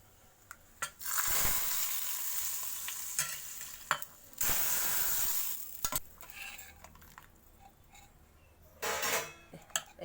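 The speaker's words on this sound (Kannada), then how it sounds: "ಒಗ್ಗರಣೆ ಹಾಕ್ತೇನೆ." Loud bursts of sizzling as mustard seeds and curry leaves hit hot oil for a rasam tempering, flaring up several times with stirring and clinks of a utensil in between.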